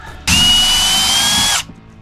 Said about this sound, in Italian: questo trapano è spettacolare davvero perfetto